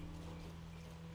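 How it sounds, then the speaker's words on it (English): Horse hooves clip-clopping steadily against a constant low hum, with no voices, in the video game Black Desert Online. "Those horses are drowning."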